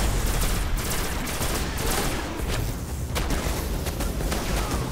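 Continuous dense gunfire and blasts during a Destiny boss battle, loud overlapping rapid shots with no pause throughout.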